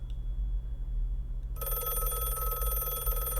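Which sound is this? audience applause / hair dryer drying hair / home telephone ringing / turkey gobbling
home telephone ringing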